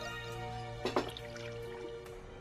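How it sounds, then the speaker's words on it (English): In the game Ys IX, a cup is knocked over and water spills onto a table. A short cluster of wet splashing drips comes through faintly over a humming background music bed. "You knock over your cup, water spills onto the table."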